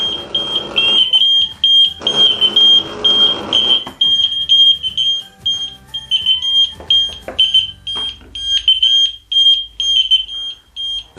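Smoke and heat detector alarms sound loud, shrill repeated beeps in uneven bursts, overlapping at first and then continuing in separate pulses with short gaps.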